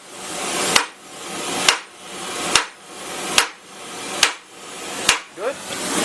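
A hot rivet being hammered into a Willys CJ5 rear crossmember: six sharp, evenly spaced metallic hammer blows, each ringing briefly before the next. The blows are close and loud, and a voice briefly comes in near the end.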